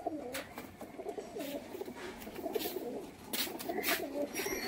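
A male pigeon coos in a steady run of soft, throaty phrases, repeating throughout at close range with light background noise and no talking.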